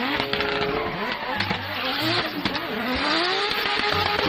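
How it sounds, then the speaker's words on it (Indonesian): A yellow toy race car makes a loud, busy engine whine with rising and falling revving sweeps, mixed with music and clutter from a toy play scene. "di sini ada mobil balap warna kuning."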